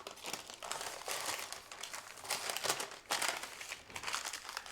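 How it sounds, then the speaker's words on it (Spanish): Paper crinkles and rustles close up in bursts of handling as it is folded around a filled Mallorcan rubiol pastry, with no talk. "Y ahora con la ayuda del papel lo vamos a doblar"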